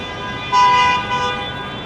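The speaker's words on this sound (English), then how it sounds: "Oh boy, a lot of honking over there." Traffic horns blare in a sustained, loud tone with overlapping honks on a busy city boulevard, heard from a bike lane along Queens Blvd.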